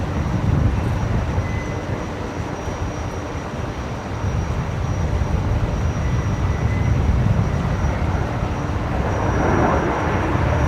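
A Velocity Boeing 737-800 airliner arriving from Hobart rolls out at Brisbane Airport, a steady broadband jet roar with low rumble holding at moderate distance throughout, no voices over it.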